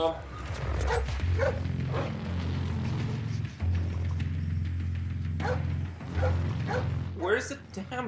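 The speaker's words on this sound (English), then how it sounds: "Where's the damn dog?" A dog barks and yips in a stealth level of Splinter Cell Blacklist, short sharp calls repeating at intervals over a low humming game soundscape, with a voice talking now and then.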